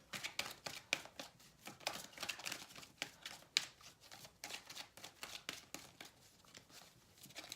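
Angel oracle cards shuffled by hand, a quiet close run of rapid riffling flutters and soft slaps repeating in quick bursts.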